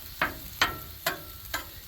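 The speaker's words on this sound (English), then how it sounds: "I want to try to get these a little bit seared" Four sharp scraping strokes in a steady rhythm, close and moderately loud, like a spatula working sliced La Choy water chestnuts across a hot Blackstone griddle, with a faint sizzle underneath and no voices.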